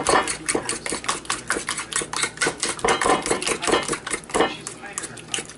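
Ricotta cheese being mixed in a bowl for lasagna, a quick run of clinking, scraping utensil strokes against the dish in an uneven rhythm, close and fairly loud.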